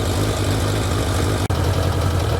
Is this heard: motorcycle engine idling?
yes